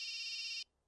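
A telephone rings with a bright, steady electronic tone that holds for a moment and then cuts off abruptly into near silence.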